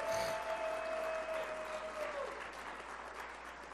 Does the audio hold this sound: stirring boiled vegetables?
no